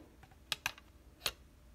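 A metal scissor-type adjustable guitar foot rest is adjusted and locked, giving a few sharp close clicks, two in quick succession and then a third, over a quiet background with no talking.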